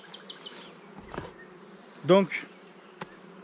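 Honeybees hum faintly at a small nucleus hive during queen rearing, a low drone with one brief louder buzz passing close, while a voice says a single word.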